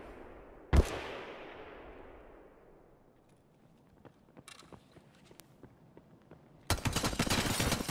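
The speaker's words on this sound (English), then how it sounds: "That's them shooting the scav." Video game gunfire as players shoot at a scav: one loud close gunshot with a long echoing tail, scattered distant shots, then a dense rapid volley of firing at the end.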